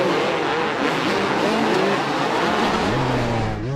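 A Yamaha YZ250 two-stroke motocross bike races on an opening lap, its engine a dense, steady high-revving drone that shifts pitch with the throttle, loud and continuous without pause.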